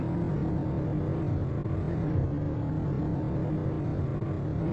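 A vehicle engine in the survival base-building game The Planet Crafter drones as a steady, dense hum with low rumble throughout, continuous and fairly loud with no talk over it.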